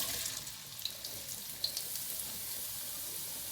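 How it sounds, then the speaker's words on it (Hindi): Cut potatoes for crispy French fries frying in hot oil, a soft continuous hiss with a couple of faint pops, fairly quiet and steady, no talking. "बाकी जो मेरे पास काटे हुए आलू हैं, ये मैं इसके अंदर डाल के इनको भी 3 मिनट के लिए फ्राई करती हूँ।"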